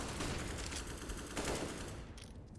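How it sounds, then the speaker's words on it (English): A grenade blows up during a Counter-Strike match on the Vertigo map, a dense burst of noise blended with rapid gunfire that holds loud for about two seconds before it thins out. "That nade. That does considerable damage to Snatchy."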